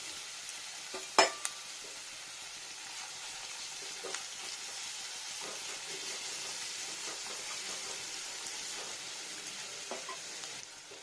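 Ginger and onion frying in moderately hot oil, a soft continuous sizzle and hiss with one sharp knock early on and light stirring scrapes, quiet and close, no talk.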